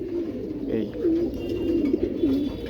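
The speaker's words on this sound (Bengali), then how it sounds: "এই যে একটা কবুতর" Soft, low pigeon coos repeat several times over a quiet background hum.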